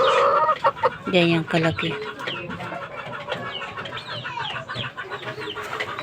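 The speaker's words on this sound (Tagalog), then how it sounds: "Ito yung mga bago niyang sisiw." Hens with their newly hatched chicks cluck and chirp nearby in short, overlapping bursts, with a person talking over the birds.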